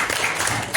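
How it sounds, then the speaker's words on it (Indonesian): An audience claps for a speaker in a classroom session. The applause is a short, steady patter of many hands, fairly close, and runs for the whole moment. "Berikan aplaus untuk saudara."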